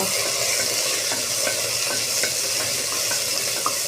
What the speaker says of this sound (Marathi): हे असेच थोडे परतवायचे आहे.